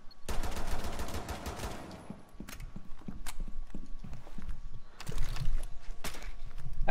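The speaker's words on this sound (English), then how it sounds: "I have no idea what he's shooting at, Logan." Gunfire in the tactical shooter Rainbow Six Siege, with sharp irregular shots and short bursts scattered across the clip among footsteps and clattering mechanical sounds, moderately loud and mixed with game ambience.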